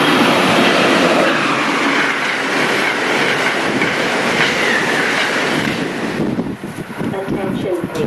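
Train rushing past without stopping, loud and close, with steady clickety-clack of wheels on rails and some wheel squeal; a voice speaks briefly under the noise.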